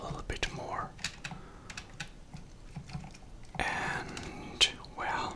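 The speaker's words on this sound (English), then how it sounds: "I hope you'll hear my mechanical keyboard a little bit more" Keys clack on a mechanical keyboard in a quiet room, close and soft, in short irregular bursts of typing with a denser flurry near the end, with faint whispering.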